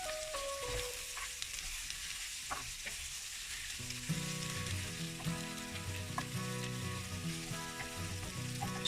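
Thin slices of Australian wagyu beef stir-fried with green peppers over high heat give a steady, close sizzle and crackle throughout, with background music coming in about halfway.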